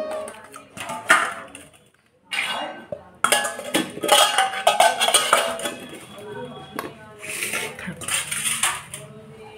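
Fish being set into bowls after washing, with dishes and utensils clinking and clattering in bursts close by, several sharp metallic knocks spread across the moment, with brief pauses between handlings.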